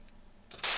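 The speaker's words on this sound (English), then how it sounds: "So here's blue noise. Very high frequent noise." After a brief quiet moment, a sudden burst of synthesized blue noise, bright and hissy, starts abruptly and holds steady and loud, tilted heavily toward the high end.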